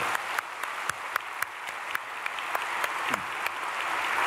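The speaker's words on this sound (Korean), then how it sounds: "명문가의 가정에 박수를." Congregation applauding at an early-morning prayer meeting in a large church, a steady wash of many hands with a few sharper individual claps standing out, holding at moderate level and swelling slightly toward the end.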